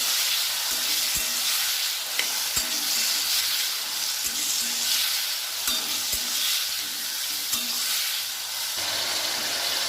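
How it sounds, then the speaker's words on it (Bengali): Boiled pointed gourd stirred in a frying pan with salt, a continuous hissing sizzle with repeated sharp spatula scrapes and knocks against the pan, close up and without talk. "পটল সেদ্ধগুলো ওর মধ্যে এবার ঢেলে দেবো। ভালো করে নেড়ে ছেড়ে দেবো।"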